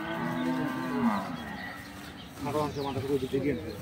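Dairy cows with calves at a rural cattle market in Dinajpur, Bangladesh, low drawn-out moos rising over a busy crowd, a long call near the start and more bellowing later, with market chatter throughout.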